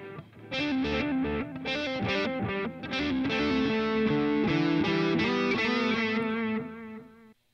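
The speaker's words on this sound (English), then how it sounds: "what you're adjusting here is the effects level of the delay. So if you crank it all the way up." A distorted electric guitar played through a Boss Katana MK-II amplifier with its delay effect at full level rings out in a loud riff, each note trailed by repeating echoes that smear together before fading.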